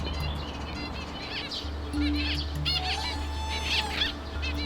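Finches in an aviary chirp and tweet in quick, bright bursts from several birds at once, with a wing flutter now and then over a steady low background hum.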